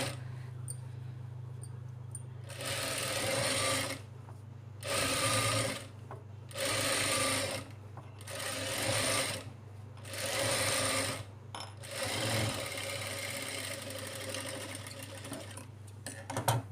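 A sewing machine stitches the lining of a child's lehenga blouse in a series of short, even bursts of fast needle chatter over a constant low motor hum, then one longer run, close by.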